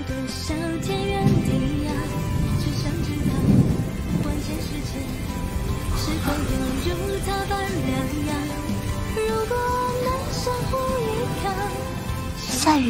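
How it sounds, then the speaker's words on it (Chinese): Rain with distant thunder in a Chinese animated fantasy series, a steady wash of rainfall running throughout with a low rumble swelling midway, heard under music and spoken dialogue. "下雨了。"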